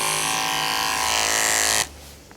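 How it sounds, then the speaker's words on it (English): Electric dog clippers fitted with a freshly sharpened blade run at a loud, steady, close buzz for nearly two seconds, then switch off abruptly. "I put them on the clippers and I actually try them on Buzzy"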